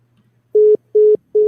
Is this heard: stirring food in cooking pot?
no